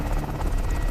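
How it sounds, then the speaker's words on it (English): Military transport helicopters roaring at night, a loud continuous rotor thrum with rhythmic blade chop and engine buzz filling the whole short stretch. "Suddenly, the roar of military transport helicopters shatters the night."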